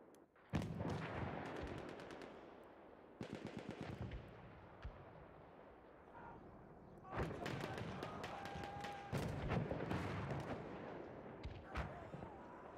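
Mortar and gunfire in a competitive online shooter match, dense rapid bursts of automatic fire and heavy thumping explosions rolling continuously, loud and close, with commentary talk underneath.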